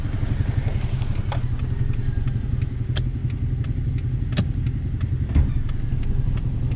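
A motorcycle engine runs close by with a steady, rough mid-pitched drone and rattling clatter, pulling away over several seconds without speech.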